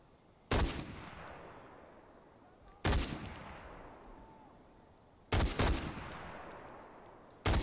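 Sniper rifle shots fired at a rhino in Far Cry 4, four loud sharp cracks spaced a couple of seconds apart, each followed by a long rolling echo that fades out.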